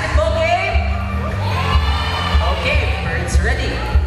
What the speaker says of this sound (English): Strong cheer from the girls.